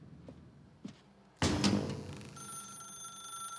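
A telephone in The Stanley Parable video game starts ringing loudly after a couple of quiet footsteps and keeps going with a steady electronic ring.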